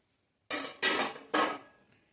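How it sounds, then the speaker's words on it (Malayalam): A perforated metal steamer plate is lowered into a metal idli pot while steaming leaf-wrapped ada: three sharp, close metallic clanks in quick succession, each ringing briefly before fading, with no talking. "ഇഡ്ഡലി ചെമ്പിനുള്ള ഓട്ടമുള്ള പാത്രം ഞാൻ അതിലേക്ക് ഇറക്കി വെക്കാം കേട്ടോ."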